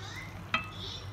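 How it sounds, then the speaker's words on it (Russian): Pork with vegetables and khmeli-suneli frying in a pan, a steady soft sizzle with one brief scrape of the utensil as the mix is stirred. "теперь мы это все перемешиваем"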